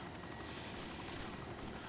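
A helicopter in the DayZ Epoch game whirs with a steady, dense rotor and engine drone, close and continuous throughout the short stretch.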